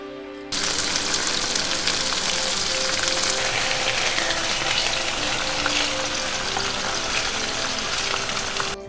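Pieces of fish go one after another into hot olive oil in a pan, where a loud, close, continuous sizzle suddenly starts and then crackles on without a break until it cuts off, with no talking.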